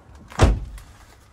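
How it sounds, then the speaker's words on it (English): The door of a 2020 Swift Bessacarr 596 motorhome is pulled shut with one solid, close thud. Faint traffic from Victoria Road hums behind it. "So we'll close this door from the lovely Victoria Road traffic"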